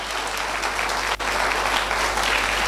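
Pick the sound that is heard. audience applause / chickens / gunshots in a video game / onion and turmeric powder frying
audience applause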